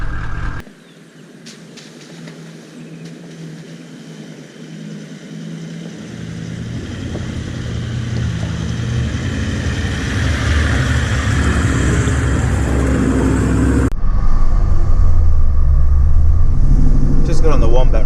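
A vehicle drives along the Wombat Range track in the Victorian High Country, its engine and road rumble building steadily under a talking voice, growing louder toward the end.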